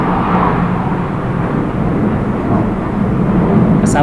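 An airplane passes overhead, a loud, steady broadband roar that holds evenly throughout with no talk over it.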